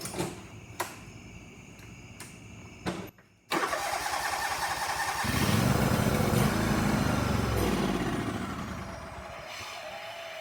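A John Deere riding mower engine cranking with a few short bursts, then a longer crank that catches and runs roughly for several seconds, loud and close, before fading slightly.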